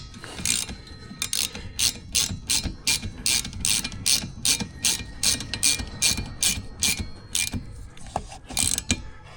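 A hand ratchet snugs down the nuts on a car's windshield cowl during a windshield installation, giving a steady run of quick, crisp clicks in short bursts, close and clear with no talking.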